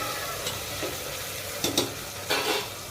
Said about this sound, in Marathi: हे बघा छान परतून घेतलेलं आहे।